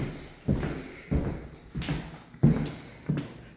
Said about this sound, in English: the door slides into itself. So it hides itself like a pocket door almost